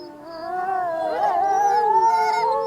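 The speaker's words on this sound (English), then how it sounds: "Take this tune by some Arctic wolves. First of all, we have the wolves on their own." Arctic wolves howling in a field recording: several overlapping long, wavering howls rising and falling together in a sustained chorus, loud and alone.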